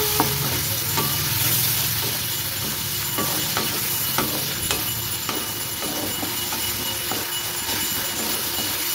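Salt and turmeric being stirred in a cooking pan for a prawn dish, a steady frying hiss with repeated scraping and clinking knocks of the utensil against the pan, no talk.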